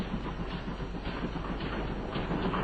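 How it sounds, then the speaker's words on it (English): Steady rumble and rhythmic rattle of a train rolling along rails, continuous and fairly distant, with no voices. "The famous sealed train that no one might leave nor enter on its journey."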